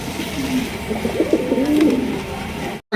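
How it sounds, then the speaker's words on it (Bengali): A pair of large blue bar exhibition pigeons coos close by in a steady series of low, rolling calls, with no talking. "এখানে রয়েছে একজোড়া ব্লুবার এক্সিবিশন কবুতর বিশাল সাইজ"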